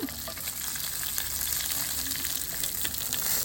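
Green chillies fry in hot oil for an eggplant sambal, giving a steady, close, even sizzle with no talking.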